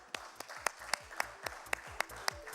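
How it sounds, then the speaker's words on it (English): Audience applause welcomes speakers onto a stage at a business conference, sharp claps landing in a steady rhythm with soft low thumps beneath, no voices. "Let's welcome with a huge round of applause, Dr. Goldsmith"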